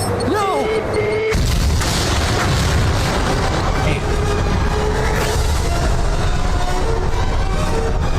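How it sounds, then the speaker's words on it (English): An incendiary device attached to a transporter detonates in a Spider-Man cartoon, a sudden loud boom followed by sustained roaring, rumbling destruction noise that fills the rest of the scene, with brief cartoon voices just before. "the incendiary device attached to the transporter, and it's about to go off"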